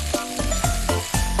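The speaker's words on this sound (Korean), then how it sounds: "여기에다가도 면을 이제 양배추 슬쩍 기름에 도포를 한 다음에 면을 넣겠습니다" Noodles and cabbage stir-frying in oil over high heat for yaki udon, a loud close sizzle punctuated by several quick rhythmic tosses and scrapes.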